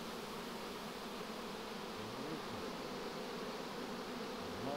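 Honeybees swarm around a beehive at an apiary, a steady, dense buzzing drone that holds at an even level throughout, with no voices.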